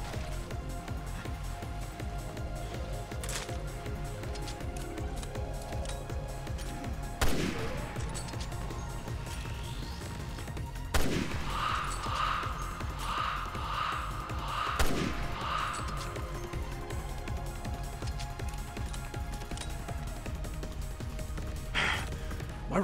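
Scattered rifle shots and impacts in the survival-horror game Resident Evil Revelations 2, Raid Mode on hard difficulty, as isolated sharp bangs spaced several seconds apart over a steady low game ambience, with a brief burst of rapid pulses midway.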